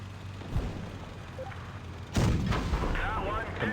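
A single heavy tank cannon shot in World of Tanks Blitz booms out with a sharp crack and a rumbling tail, following a quieter stretch of game ambience with a faint earlier thump.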